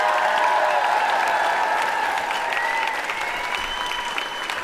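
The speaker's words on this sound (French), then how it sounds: "On peut l'applaudir bien fort." Audience applause for a comedian in a French show, loud dense clapping from a large crowd, sustained and slowly easing off.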